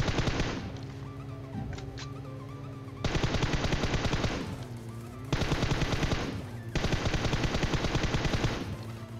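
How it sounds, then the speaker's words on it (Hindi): Loud, close bursts of rapid automatic gunfire in PUBG Mobile, fired at a vehicle, come in several long volleys separated by brief pauses, with a low engine-like rumble underneath. "और मैंने इतनी गोलियां मार दी थी कि भाई की गाड़ी से धुआं निकलने लग जाएगा।"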